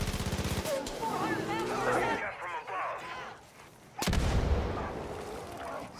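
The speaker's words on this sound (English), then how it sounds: "Let's kill bears with dynamite." Several dynamite blasts go off in the Far Cry 5 video game during a bear hunt in an orchard, with sharp booming hits and rumbling debris amid game noise.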